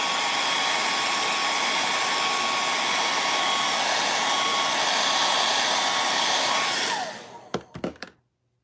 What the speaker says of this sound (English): The blow dryer's right here too.